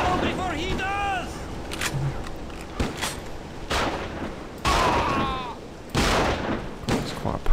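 A double-barreled shotgun fires in a video game, with loud broadband blasts at intervals, separated by game sounds and a voice talking over them.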